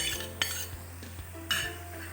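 A spoon scrapes and stirs chopped onion, tomato and tomato paste in a pan, giving a few soft clinks and scrapes against the metal at a steady, unhurried pace, close and fairly quiet.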